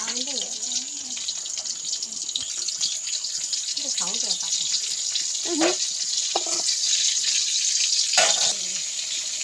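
Tap water running into a vessel in a home kitchen, a steady gushing stream heard fairly close, with a voice speaking at intervals over it.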